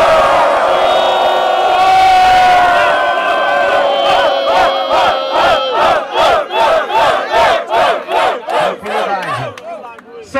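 A crowd at a 2017 state hip-hop dance battle final roars and cheers for the dancer Choice. A sustained loud shout gives way to rhythmic chanting in regular pulses, dense and close.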